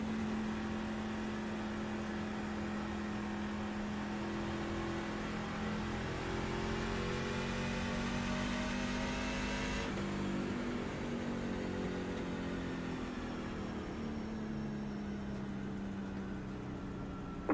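Race car engines hum continuously on a track, pitch slowly rising then dropping as cars accelerate and pass, with no talking.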